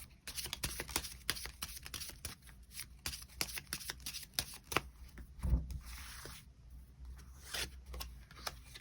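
A deck of tarot cards is shuffled and cards are drawn, giving a steady run of quick riffling flicks and soft slaps at close range, alone with no talking.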